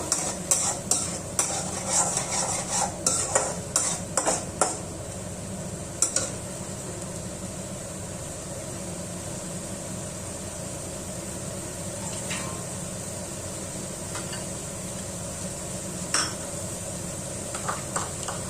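Tomato paste stirred in a pan on high flame for palak butter paneer curry, with a run of close spoon scrapes and clinks against the pan over a steady soft sizzle that continues after the stirring eases.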